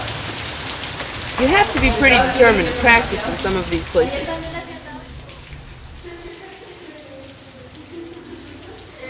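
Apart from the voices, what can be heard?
rain falling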